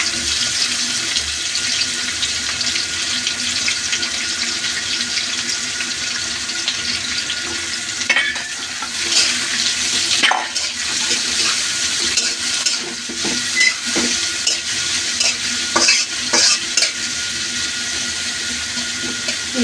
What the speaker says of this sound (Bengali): নাড়া দিয়ে এখন দিয়ে দিব হচ্ছে পেঁয়াজ কুচি।